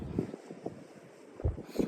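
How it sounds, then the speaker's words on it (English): Wind buffeting a microphone at the shore on a ray fishing trip in the South Hams, low rumbling gusts thumping in irregular bursts, loudest near the end. "Sorry about the wind."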